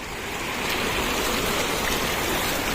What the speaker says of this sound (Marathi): दत्तमठाच्या कडेने तिन्ही बाजूनी पाणी वाहत आहे. पाण्याचा लोट चाललाय बघा.